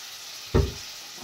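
Egg cutlets fry in hot oil, giving one short, sharp burst of sizzling that fades fast into a quiet hiss.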